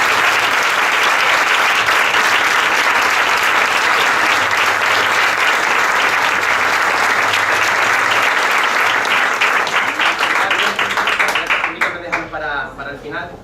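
A crowd applauds at a commemoration of the International Day for the Elimination of Violence against Women, loud sustained clapping from many hands that continues for over ten seconds, then tapers off as a voice begins speaking.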